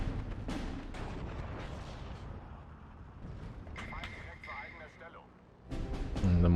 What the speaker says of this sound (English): And the mortars go in for our Pack 40.